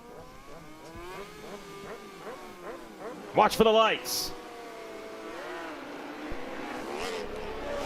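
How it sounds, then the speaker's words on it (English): Stock 1000 racing motorcycle engines rev up in rising and falling bursts at the start line at Road America, with a sharp loud roar midway, under a commentator's voice. "in just a moment, you're going to hear the revs come up"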